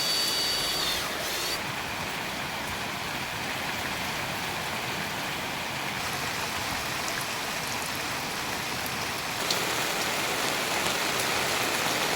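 Heavy rain pours down steadily during bad weather, a constant dense hiss with no break and no voices across the whole stretch.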